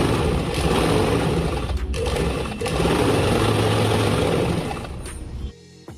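A fast USHA electric motor fitted to a manual sewing machine runs with a loud, steady whirring hum, then cuts out abruptly just before the end.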